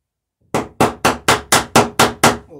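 Eight sharp, evenly spaced hammer blows ring out close and loud as rivets are driven on a traditional small wooden boat, each strike decaying briefly before the next.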